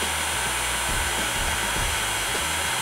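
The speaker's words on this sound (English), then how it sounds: "This particular heat gun has a" A temperature-sensing heat gun blasts hot air over the chips of a Mid 2007 or Early 2008 Apple MacBook Pro, giving a loud, constant airy roar with a low motor hum throughout.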